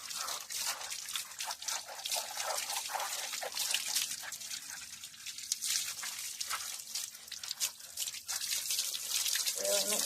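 Water running and dripping as soap is rinsed off a dog's coat, a steady close splashing trickle with irregular drips throughout, and a voice talking faintly beneath.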